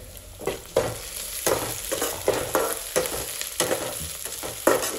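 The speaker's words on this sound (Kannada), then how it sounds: "ಎಲ್ಲ ಫ್ರೈ ಮಾಡಿ ಉರಿ ಕಮ್ಮಿ ಮಾಡಿ ಇಟ್ಬೇಕು ಅಷ್ಟೇ ಗೈಸ್." Eggs frying in a pan for egg burji, a close steady sizzle broken by repeated scraping stirs of the spatula in an irregular rhythm, with no voices.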